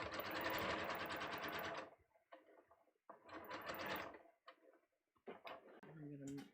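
A sewing machine stitches a shirt in rapid mechanical bursts, a long run followed by shorter starts and stops, close and fairly quiet with brief clicks between runs.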